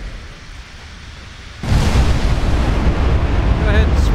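Torpedo hits erupt against a ship in a naval battle game as a sudden loud, deep blast that swells into a sustained rumbling roar after a quieter lead-in.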